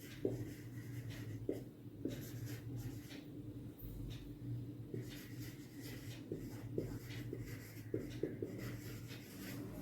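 A pen scratching across a notebook page in a classroom, soft close strokes in short bursts with brief pauses, quiet against a low steady background hum, with no talking.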